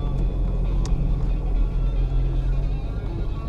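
Little blue front-wheel-drive Honda car driving through light snow, with a steady low engine rumble heard from nearby and no talk.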